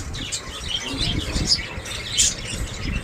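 Pet cockatiels and other small birds at a bird market squawk and chirp continuously, a busy overlapping chorus of harsh calls with occasional wing flutter, fairly close and steady throughout.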